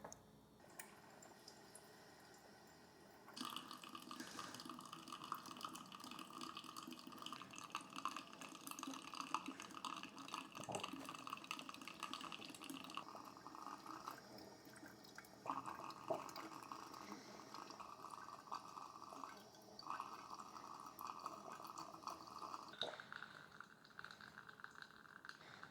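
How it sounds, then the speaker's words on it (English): A Moccamaster coffee maker brewing a half carafe of five cups, with a soft steady hiss and gurgle of hot water and faint dripping into the pot, quiet and continuous. "our coffee is done brewing. We can see it's still dripping down just a little bit."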